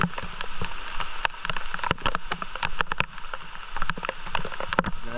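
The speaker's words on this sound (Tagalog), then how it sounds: "Lakas ang ulan." Heavy rain falls on Malapascua, with dense, irregular drops pattering and clicking sharply against a nearby surface over a steady wash, and no voices.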